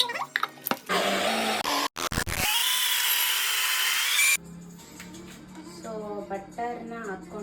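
Digestive biscuits whir in a kitchen mixer grinder, which starts in short bursts and then runs as a loud, high-pitched continuous grind for a few seconds before cutting off, with a voice and child chatter around it.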